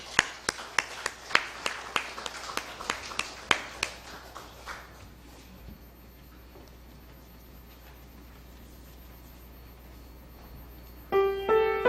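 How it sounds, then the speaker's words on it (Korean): A church congregation claps in a quiet sanctuary after a choir hymn, a run of sharp, evenly spaced claps that thins out and fades by the midpoint, leaving low room hush before a brief tonal sound near the end. "박수하겠습니다."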